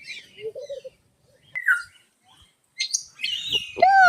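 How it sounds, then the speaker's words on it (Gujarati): Mixed parrots at a zoo give scattered sharp chirps and squawks, with short bursts separated by pauses and a louder raspy call at the end. "મિક્સ પોપટ છે બધા"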